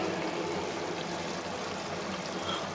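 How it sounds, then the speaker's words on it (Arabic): Water poured steadily into a pot of meat for an Egyptian okra stew, a continuous close splashing stream with no talk. "هضيف لها كميه حلوه من الميه واسيبها كده ايه تاخد وتدي مع بعض"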